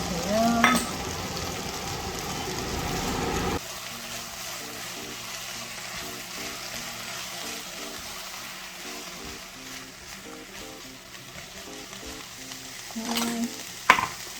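Squid stir-fries for seafood jjamppong with a busy sizzle and stirring at first, then drops to a quieter, steadier fry, with a few sharp utensil knocks against the pan near the end.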